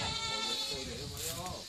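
Goats bleating at a goat farm in Bang Rong, Phuket, a few wavering calls close by over steady background noise, with people talking around them.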